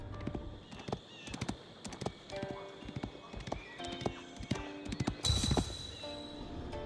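Horse hooves clip-clop in a rapid gallop in Age of Empires IV, a run of sharp, close hoofbeats with a whinny, while a narrator speaks over them.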